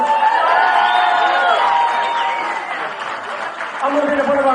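Wedding reception guests clap and cheer together in a room, a loud continuous burst of applause with whoops, and voices are heard over it.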